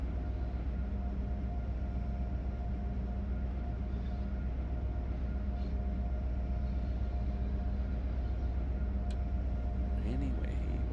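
An Acela train in the Train Sim World video game pulls into a station, giving a steady, unbroken low rumble and mechanical hum that stays even for the whole stretch.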